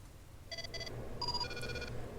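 A telephone rings within a WWE wrestling video game, with two short electronic trills followed by a longer, steadier ring, moderately faint over a low background hum.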